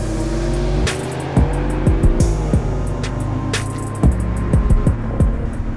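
A 2020 BMW Z4 with an 8-speed ZF transmission accelerates in bursts, its engine note rising and dropping through several quick gear changes, loud and close with sharp crackles between shifts.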